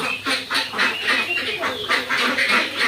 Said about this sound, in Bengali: হাঁস অনেক ভয় পাইতেছে